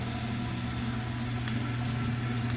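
Onion and ginger sizzle steadily in a hot frying pan for fried rice, a continuous close crackling hiss with no talk over it.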